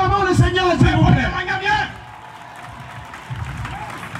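A church congregation claps and acclaims at a prayer service for peace in Daoukro, Côte d'Ivoire, with a loud burst of crowd applause and voices for about two seconds that then fades into quieter room noise.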